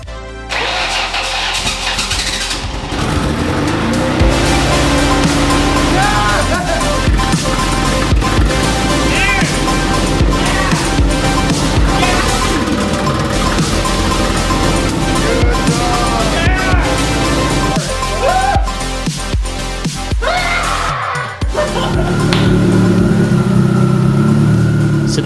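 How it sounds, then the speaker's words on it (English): A newly built turbocharged car engine cranks to life and runs loudly and steadily up close, its pitch rising and falling as it revs. "So the engine actually ran."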